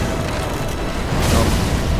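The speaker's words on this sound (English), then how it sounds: "See if I can do it with the fire spell." A fire spell cast in the video game Dark Souls III rolls out as a loud, sustained rumbling boom with a rushing, roaring surge that swells toward the end.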